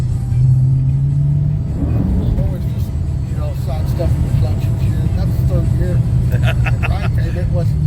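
An old car's engine runs in third gear with a low, continuous rumble. Someone talks over it throughout.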